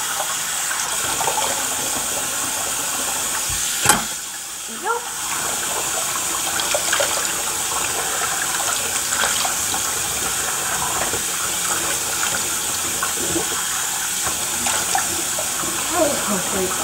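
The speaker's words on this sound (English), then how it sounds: "I'm just trying to wash this soap off." Tap water runs steadily into a bathroom sink while soap is rinsed off, a continuous close wash of flow with a few brief splashes and bumps.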